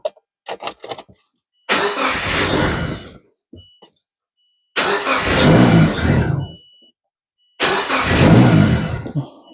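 A 2004 Subaru Forester with a fuel leak cranks and fires in three separate loud bursts of starting and revving, with short silences between attempts.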